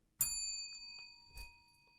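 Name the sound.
bell being hit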